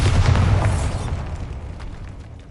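A Bombarda spell explosion in a video game catacomb: one heavy booming blast at the start, loud and deep, then a rumbling decay that fades over a couple of seconds.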